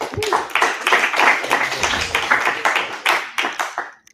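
A student team presentation draws applause in a classroom, a burst of many hands clapping steadily for about four seconds before tapering off at the end.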